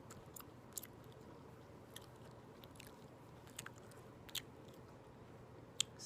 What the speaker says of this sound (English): I hope you don't mind my chewing gum